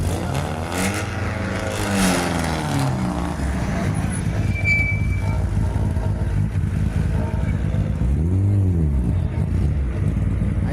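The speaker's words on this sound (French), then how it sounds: "Certains il faut ronfler les moteurs" Rally cars at the Franche-Comté rally rev and accelerate past, with engine sweeps rising and falling nearby, one pass early and another toward the end over a steady background roar.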